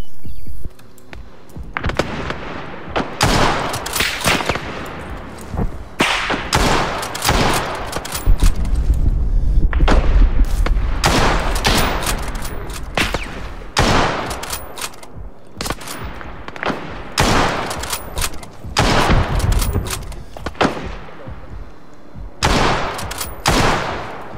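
Bursts of gunfire in a 1944 Russia-front reenactment, repeated sharp cracks and short volleys scattered across the clip at varying distances, some loud and close, with brief lulls between them.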